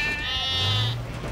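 Cartoon children imitating a goat's bleat in a French Titeuf episode, a loud, wavering 'bêê' cry heard alone.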